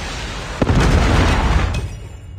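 A Predator missile strike explodes in the mobile shooter Call of Duty Mobile, landing as a sharp crack that swells into a loud, heavy boom, then rumbles for over a second before fading.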